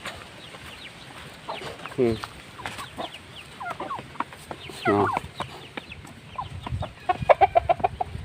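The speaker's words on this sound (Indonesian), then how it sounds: "Ini kita coba berikan pada ayam." Free-range village chickens cluck nearby in short irregular bursts while being fed, mixed with other bird chatter, while a person speaks briefly.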